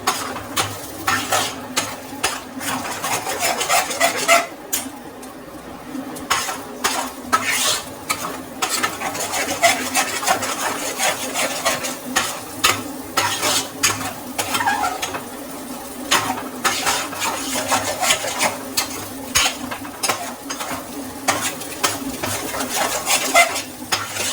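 Beaten eggs frying in a pan for egg fried rice, with steady scraping and clinking of a utensil stirring against the pan over a continuous soft sizzle, close and fairly loud with no talking.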